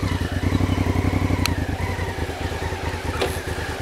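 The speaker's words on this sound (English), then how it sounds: "I'm going to get the bike restarted" An ADV motorcycle engine idles and runs off-road after a restart, a steady close pulsing rumble with light mechanical clatter and no talking.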